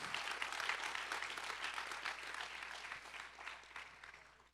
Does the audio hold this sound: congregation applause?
yes